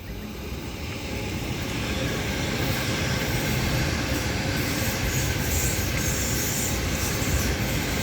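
A Waratah ASET train on a Hornsby service runs past on the Down Main, a loud, close, continuous rumble of rail wheels and carriages with a faint high squeal, holding steady for several seconds.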